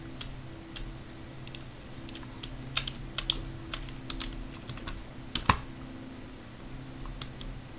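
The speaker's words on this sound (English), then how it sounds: "sorry about the keyboard sounds and mouse." Typing on a computer keyboard mixes with scattered mouse clicks, light irregular taps close by over a low steady hum, with one louder click partway through.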